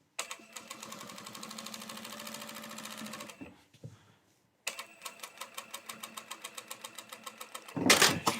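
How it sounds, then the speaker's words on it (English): Sewing machine top stitching along the shoulder seams of a shirt toward the yoke, with a steady rapid needle chatter in two runs separated by a short pause, ending in a brief louder burst. "let's go ahead and do this top stitch on each of the shoulders"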